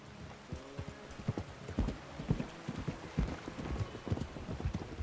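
Shire horse hooves clip-clop steadily at close range in the RedM game world, with a quick, uneven rhythm of hoof strikes that carries on throughout.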